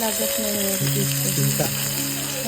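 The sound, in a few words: oil poured into hot pan sizzling, frying chicken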